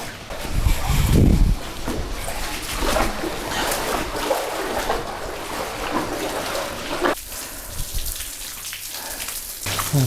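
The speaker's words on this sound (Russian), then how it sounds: "Водичка, водопад очередной." Water pouring down in an underground tunnel, a steady broadband rush with patter like rain on hard surfaces, continuous and fairly close, with a brief louder low burst near the start.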